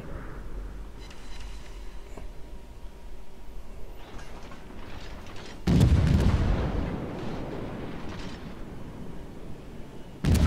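US heavy cruiser guns firing in World of Warships, with faint distant thuds early, then one loud booming salvo midway that rolls off into a rumbling decay, and another blast starting at the very end.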